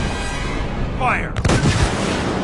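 A sci-fi nuclear warhead launch effect: a rising synthetic whistle, then a heavy, close blast-like boom that rolls on and rumbles through to the end, with no clear talk over it.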